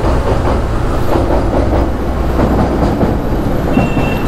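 A long container train rolls steadily past close by, its loud wheel clatter and rumble filling the whole stretch with no voices.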